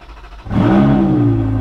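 A car engine is started with a push button: a quiet moment, then the engine catches and fires up into a loud, close, rising rev that settles into a steady roar.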